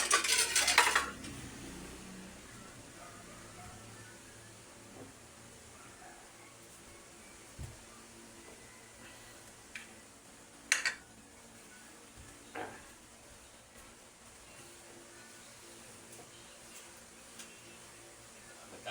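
Plates and dishes being cleared after a meal: a loud clatter of crockery at the start, then sparse faint clinks and knocks of cutlery and dishes against a quiet background.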